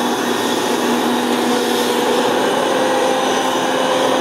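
A combine harvester working a steep mountain wall of a field, a loud steady mechanical roar and whine that holds unbroken throughout with no voices.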